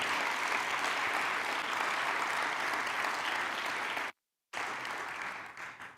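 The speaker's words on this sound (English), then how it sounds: "Can we give them a big round of applause?" Audience applause for MEDA staff at an annual meeting, a dense steady clapping from a large room that cuts out abruptly, then resumes and tapers into scattered claps.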